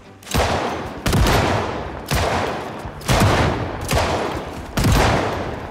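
Shotgun blasts in Project Zomboid fire six times in a steady rhythm, each loud, close boom coming roughly a second apart and trailing off briefly before the next.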